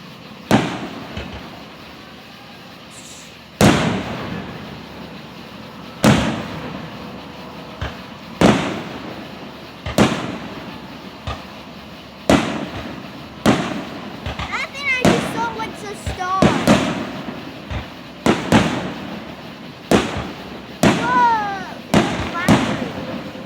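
Fireworks display in Vian, Oklahoma on Independence Day: repeated sharp booming bursts, roughly a dozen spaced a second or two apart, with crackling and whistling tails between them, while people nearby talk and cheer.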